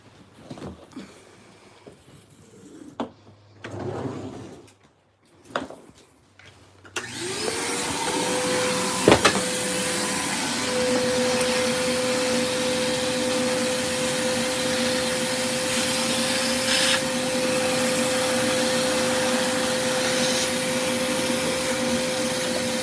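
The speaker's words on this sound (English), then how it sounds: "into the vacuum you go, you go." A household vacuum cleaner switches on after a few seconds of faint knocks and handling noises, then runs as a steady, loud whining hum until the end.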